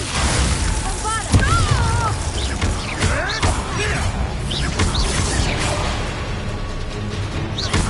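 In Hogwarts Legacy, a Confringo spell bursts with a booming, fiery blast, layered with swooshes and crashes over continuous game noise and combat effects, while a voice talks at the same time.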